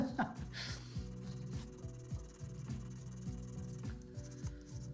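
Hand filing of a hammered silver ring, a steady run of close, scratchy rasping strokes repeating in a regular back-and-forth rhythm, alone and fairly quiet.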